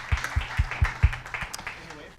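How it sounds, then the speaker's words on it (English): Brief audience clapping for a speaker at a business talk, a handful of sharp claps in quick rhythm that fade out within about two seconds. "Let's give him a round of applause, Mr. Tom Brubaker."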